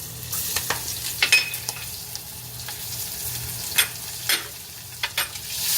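Garlic sizzles steadily in a pan as a short-rib dish gets started, a soft continuous fry broken by a few sharp spatters and stirring scrapes, fairly quiet and with no talking.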